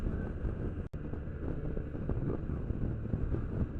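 Strong north wind funnels down through a mountain notch, buffeting the microphone with a steady, loud roar and gusts, heard from atop a motorcycle.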